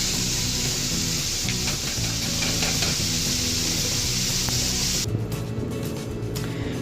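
Taco meat sizzles loudly and continuously in a pan over medium-high heat, a dense steady frying hiss up close with occasional stirring scrapes, the hiss thinning slightly near the end.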